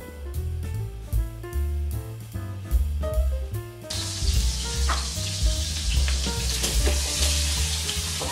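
Onions sliced into rings sizzle as they sauté in butter and olive oil for bistek tagalog, a steady frying hiss with occasional stirring, heard under background music.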